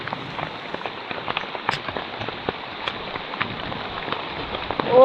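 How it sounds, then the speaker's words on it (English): Hail falls steadily during a Himalayan blizzard on a trek in Nepal, a dense, continuous patter of countless small ice pellets striking the ground close by, with no talk. "Wow, it's still going. Still hailing."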